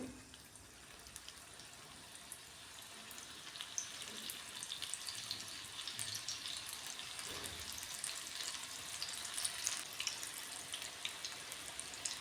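Small fenugreek-stem fritters fry in hot oil over a medium gas flame, giving a soft, fairly quiet bubbling sizzle that grows busier with scattered pops and crackles, no speech.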